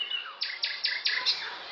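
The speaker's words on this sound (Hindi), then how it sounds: "और चहकती चिड़िया।" A small bird gives a quick series of four or five sharp, evenly spaced chirps, close and clear against a quiet background.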